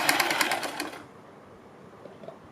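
Sewing machine stitching a fabric neck strip onto a suit or kurti neckline, a fast rapid run of needle clatter for about a second, then stopping into near silence.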